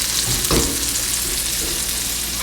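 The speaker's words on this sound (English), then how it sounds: "brown each side for about 2 to 3 minutes until we get a nice caramelization on the patties" Beef patties for Salisbury steak brown in a hot pan, giving a steady, close, loud sizzle with a brief crackling flare near the start.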